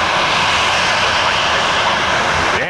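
A loud, steady jet engine roar from a Southwest airliner close by at Tampa airport, broadband and sustained throughout with no pauses.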